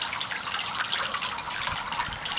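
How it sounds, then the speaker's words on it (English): Toy water worms spray water in a steady, hissing gush, loud and close, with a continuous rushing texture and no voices. "I think Auntie Christine got you those little worms that spit water"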